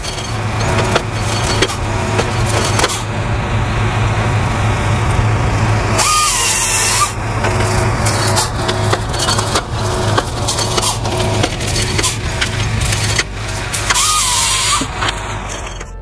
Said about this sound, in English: This efficient harvester is capable of felling, delimbing, and cutting timber with precision.